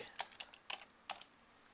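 Code is typed on a computer keyboard in a web design session as a few quiet, quick key clicks in small irregular bursts, faint and close, with no talking.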